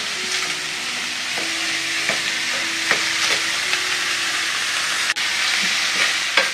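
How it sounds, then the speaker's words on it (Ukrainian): Steady sizzling of onions frying in a pan, a constant crackly hiss with occasional light scrapes of stirring. "всипаю цибульку. Підсмажуємо."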